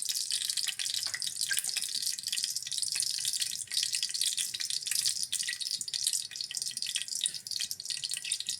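Water drains from a pot of chicken and onion, a continuous close splashing trickle with steady pouring and dripping and no voices.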